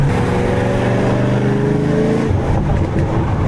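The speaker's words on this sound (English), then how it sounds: "Nice little pops and bangs." A loud 1000-horsepower Pontiac G8 revs and drops at a cars and coffee meet, its exhaust rumbling close by, with a few crackling pops near the end.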